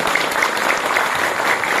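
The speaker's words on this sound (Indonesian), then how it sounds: "Ayo, kalau leres tepuk tangannya yang paling kencang." Loud, dense clapping from an audience at an Indonesian parenting talk, steady and sustained throughout with no voices over it.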